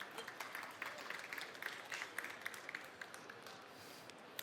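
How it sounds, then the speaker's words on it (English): A workshop audience claps for an expert panel, a faint, distant patter of applause with scattered sharper claps throughout. "please, a round of applause for our expert panel"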